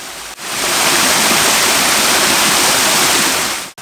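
Small waterfall on a forest stream after sustained winter rain, a loud, close, steady rush of falling water that fills the scene without a break.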